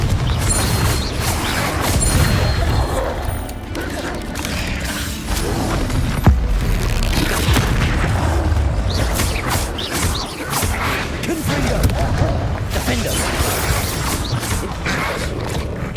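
Dense, continuous game combat from Hogwarts Legacy: magical spell casts crackle and whoosh over rumbling explosions and creaking, clattering debris, loud and busy throughout with no clear pauses, no voices heard.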